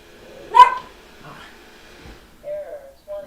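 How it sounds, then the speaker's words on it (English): A dog indoors gives one sharp bark followed by softer whining yips and whimpers, close by, while a person speaks over part of it. "If the dog barks,"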